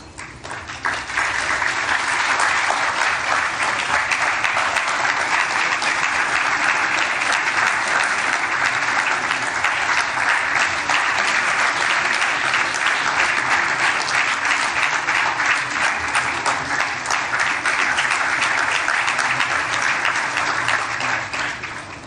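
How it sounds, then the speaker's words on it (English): Huge, sustained audience applause after an enthralling performance at a Foundation Day cultural event, dense steady clapping holding for over twenty seconds before tapering at the end. "I request all for a huge round of applause for this enthralling performance"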